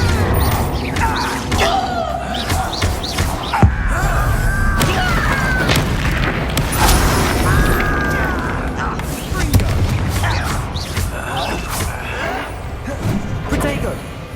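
Confringo and Bombarda spell blasts in the wizarding game Hogwarts Legacy: repeated booming explosions and crashing impacts in a dense, loud battle mix, with voices speaking over the din.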